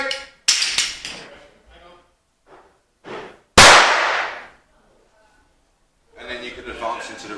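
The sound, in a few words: airsoft 209 primer grenade going off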